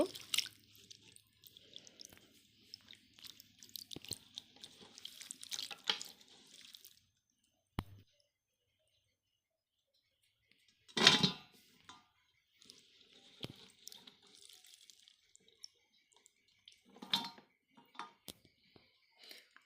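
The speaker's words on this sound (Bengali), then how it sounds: "সাজনাগুলো এখন ধুয়ে নিব।" Drumstick pods are rinsed by hand in water in a home kitchen, giving quiet, intermittent splashes, drips and squishy rubbing broken by silent gaps, with a couple of sharper clatters.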